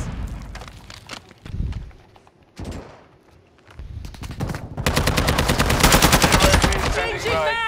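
First-person shooter gunfire arrives as loud bursts: scattered shots and effects at first, then a sustained rapid-fire stream in the second half, with a voice briefly over it.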